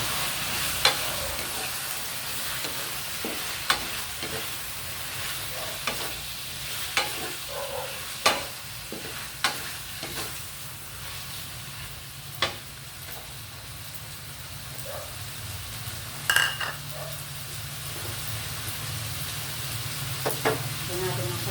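Shrimp go into a pan and are stir-fried. A steady soft sizzle runs underneath, and sharp spatula clicks and scrapes land at irregular intervals.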